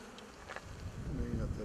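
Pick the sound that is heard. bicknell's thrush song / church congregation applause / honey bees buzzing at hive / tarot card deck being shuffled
honey bees buzzing at hive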